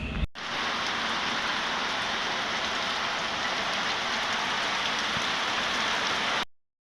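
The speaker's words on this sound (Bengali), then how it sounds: "অনেকটা জোরে বৃষ্টি পড়ছে" Heavy rain pours down steadily, a dense, even hiss of drops striking surfaces that holds constant and close for several seconds with no talking, then cuts off abruptly.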